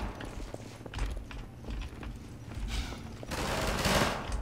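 Gunfire in the Half-Life 2 video game: bursts of shots crackle over a busy game soundscape and build into a denser, louder volley toward the end, with no voices.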